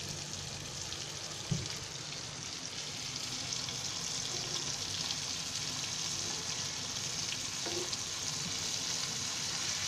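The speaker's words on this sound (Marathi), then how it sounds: "मच्छी आता चांगली एका बाजूने फ्राय झालेली आहे. आता मी ही उलटी फिरवते." Shark fish (mushi) fries in a pan for a Marathi curry-and-fry dish, giving a steady, dense sizzle with a faint clack near the start and no talking.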